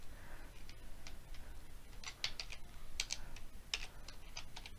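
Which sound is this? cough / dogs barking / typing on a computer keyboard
typing on a computer keyboard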